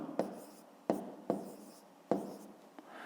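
Pen or pencil writing numbers by hand for a fifth-grade math exercise: four short, scratchy bursts of strokes separated by brief pauses, close and fairly quiet.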